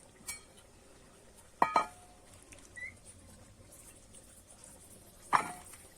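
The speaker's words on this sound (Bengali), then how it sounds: "এবার কিন্তু আমি আমগুলো তুলে নেব একটা পাত্রে" Washed raw green mangoes being lifted into a bowl, with a few sharp knocks and clatters, a quick double clunk, then another later, in an otherwise quiet room.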